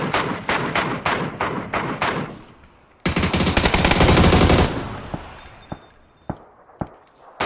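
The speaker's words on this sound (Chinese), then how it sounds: "再打，你再打，开枪" Video game gunfire: a rapid string of close single shots, then a dense sustained burst of automatic fire, followed by scattered isolated shots and thuds.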